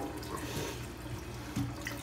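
Raw chicken rinsed under a steady stream of kitchen tap water, a continuous close splashing rush into the sink with brief surges as the meat is handled beneath the flow.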